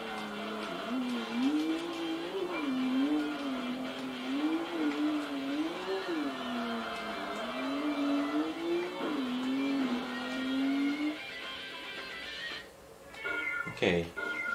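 A Nissan Skyline GT-R R32 tuned to 735 horsepower races in Tokyo Xtreme Racer Drift 2. Its engine drones steadily and rises and falls in repeated revving sweeps through gear changes, then drops away near the end as a voice talks over it.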